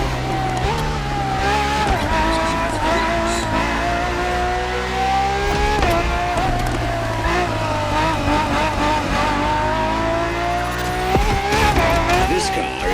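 A Ferrari FXXK race car in The Crew Motorfest wails at high revs with shifting engine pitch and repeated tire squeals and skids through corners, loud and continuous throughout.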